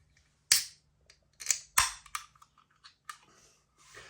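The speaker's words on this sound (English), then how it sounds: "A little bit of smoke on the can opening." A beer can pops open with a sharp crack and hiss, followed by a few softer clicks and rustles of handling, up close and with no talking.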